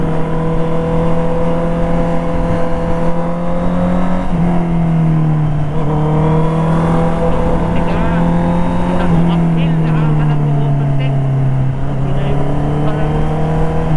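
A motorcycle engine drones loudly on a hilly road toward Montalban, Rizal, its strong tonal hum sliding up and down in pitch as it revs and passes.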